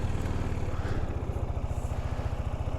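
A 2023 Zontes 350M motorcycle engine idling with a steady, rapid low thump that stays close and even throughout, with no other sounds over it.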